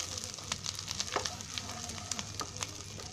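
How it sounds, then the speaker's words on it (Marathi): Oil sizzles in a hot pan while cooking a lemon egg curry, a soft, steady crackle with scattered pops and small spattering bursts, fairly quiet and close. "आता मी टाकते त्याच्यामध्ये तेल"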